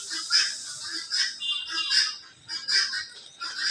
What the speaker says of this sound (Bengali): মিষ্টি কুমড়া খাচ্ছে পাখিতে।